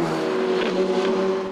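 A TDI-engined race car in the Bicox Evo 2 category of the BeTrophy at Mettet races on track, giving a loud, steady, buzzing engine drone with a slight rise in pitch and no voices.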